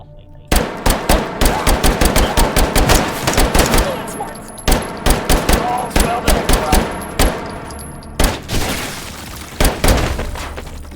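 Rapid bursts of gunfire in H3VR's Dark Take & Hold mode, aimed at heavily armored Sosigs, crack out in fast repeated volleys with short pauses between strings, loud and close.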